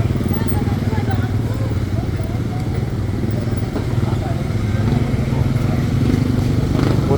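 A motorcycle making a U-turn on a road: a steady engine drone and road rumble fill the scene at close range, with muffled voices mixed into the background.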